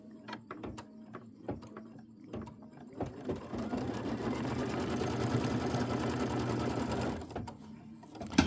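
A sewing machine stitches a pieced quilt block: a few single stitches and pauses, then a steady fast run of rapid mechanical stitching for several seconds before stopping, close and clear.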